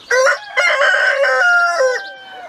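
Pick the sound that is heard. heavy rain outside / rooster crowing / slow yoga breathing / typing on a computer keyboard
rooster crowing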